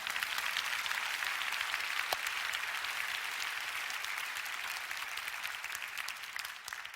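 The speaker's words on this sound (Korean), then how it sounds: "지금 여러분 박수 쳐주셨잖아요" Congregation at a church prayer gathering breaking into applause: dense, sustained clapping from a large crowd, steady and full throughout, slightly tapering near the end.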